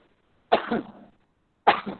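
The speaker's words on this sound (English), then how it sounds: "This is coughing." Two separate coughs, close and fairly loud, with a pause of about a second between them in otherwise quiet surroundings.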